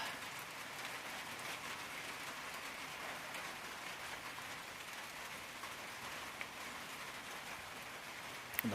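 Steady rain pours down on a muddy mountain trail between Muskrat and Carter Gap shelters in February, a continuous even hiss of drops with no talking.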